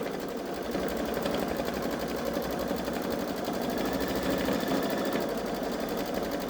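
A Babylock Solaris Vision embroidery machine runs a large Santa snowman design, its needle hammering out a fast, even, mechanical stitching rhythm with a steady motor whir, continuous and close throughout.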